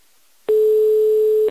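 A single steady telephone line tone sounds for about a second while a call is placed to a woman named Ana during a prank call, loud and clean, starting and stopping abruptly.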